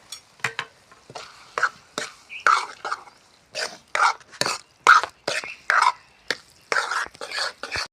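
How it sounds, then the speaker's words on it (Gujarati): Maggi noodles with chili powder are stirred in a pan, a spoon scraping in repeated short strokes close by, with a soft sizzle and faint whispered talk between strokes. "હવે આગળ હલાવી નાખીએ, મિક્સ થઈ જાય"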